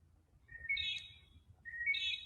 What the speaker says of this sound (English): As you can hear the birds chirping.